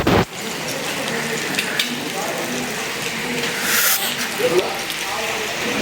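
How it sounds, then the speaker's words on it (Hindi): Rain falls in Rawalpindi as a continuous close hiss throughout, while someone talks over it. "सुबह से बारिश हो रही है और माशाल्लाह मौसम बहुत ही सुहाना बना हुआ है"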